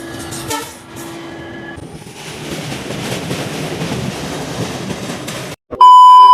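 The 15777 NJP to APDJ Tourist Express rumbles past loudly and steadily for several seconds, then a sharp high electronic tone or horn blares at the very end.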